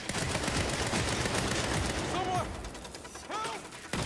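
Dense, loud gunfire in the action game Saints Row, rattling nonstop for a couple of seconds and then thinning out, with shouting voices breaking through.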